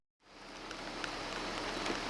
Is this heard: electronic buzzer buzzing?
no